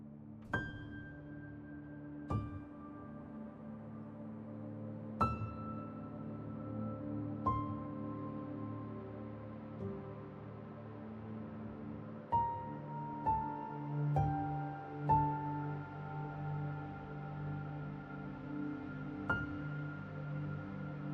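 Film score cue played back in Logic Pro without mastering: sparse, soft piano-like notes struck one at a time over a low sustained pad, quiet and spacious, with a few closer clusters of notes near the middle.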